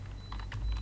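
Keys clatter on a computer keyboard during structural modelling software work, a short burst of several quick taps that grows a little louder toward the end, heard up close with no talk.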